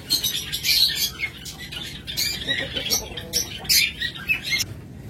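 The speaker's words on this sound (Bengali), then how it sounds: "অসংখ্য বাজরিকা পাখি রয়েছে" Budgerigars squawk and chirp continuously in a busy chorus of overlapping high calls, close and fairly loud, with no talk over them.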